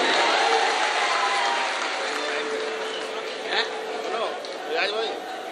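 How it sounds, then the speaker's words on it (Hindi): An audience at a 2018 mushaira in Meerut breaks into sustained applause, a thick wash of clapping and crowd noise that swells at the start, settles, then surges again briefly. "जोरदार तालियों के साथ बुलाइए भाई।"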